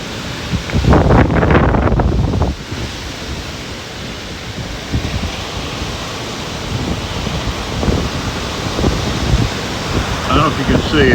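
Hurricane Ida storm winds in New Orleans rush and roar outdoors as a big branch sways and rain falls, a loud, steady buffeting with gusty bursts and heavy wind noise on the microphone.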